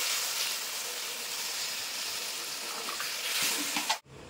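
Water poured into chicken kosha sizzling in a pan, a loud steady hiss and bubbling that swells near the end before a sudden cutoff.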